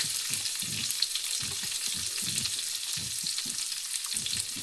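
Onion with curry leaves and dried red chillies fries in hot oil, a constant hiss of sizzling overlaid by repeated soft scraping strokes of stirring in a quick, even rhythm.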